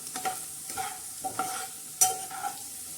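A lemon and chilli mixture is stirred in a pan, with a rhythmic series of scraping strokes roughly every half second over a faint sizzle, one stroke louder and sharper than the rest, close and quiet.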